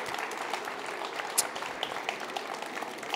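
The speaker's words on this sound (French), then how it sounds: "On peut les applaudir, bien sûr, pour cette démonstration" A live audience applauds at a talk on the ECMO life-support technique, a dense, even patter of many hands clapping with no voices over it.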